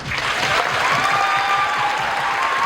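Dense, continuous applause from a crowd before a show's final-episode event, loud and even throughout with a faint tonal hum in the background.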